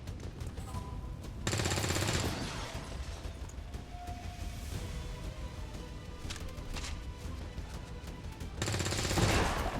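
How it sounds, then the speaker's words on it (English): Bursts of soldiers' gunfire aimed at the Chosen in XCOM 2 erupt loudly at the start and again near the end, with quieter clatter and game ambience in between. "please stop taking low percentage shots at the Chosen"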